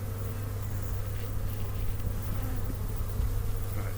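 Honeybees buzz in a dense, continuous drone during a February hive inspection, close and steady with a low hum throughout and no talk.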